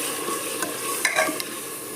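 Tomato paste going into a pan of frying mutton and onions, a steady close sizzle with a few brief stirring scrapes and clinks over it, with no talking.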